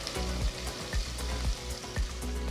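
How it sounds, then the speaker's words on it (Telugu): Cashews, chopped ginger and green chilies fry in a pan with a steady soft sizzle, broken by regular scraping strokes of a spoon stirring them about every half second. "చిన్నగా తరిగిన 3 పచ్చిమిరపకాయలు కూడా వేసి ఇదంతా బాగా కలపాలి"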